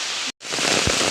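Outdoor rain falling steadily at dusk after an evening fishing trip at a stream in Kerala, a dense hissing patter broken by a brief gap, with a faint low thump near the end.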